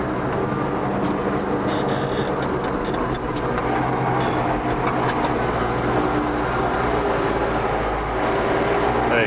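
A tractor engine labours under load while ploughing in a lower gear, a continuous deep rumbling drone with a steady mechanical hum throughout.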